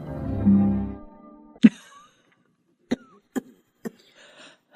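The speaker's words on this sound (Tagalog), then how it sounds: "Lumalala yata ang ubo mo" A close, harsh cough bursts out after a low voiced groan, followed by a few quieter, sharp clicks and breaths in near silence.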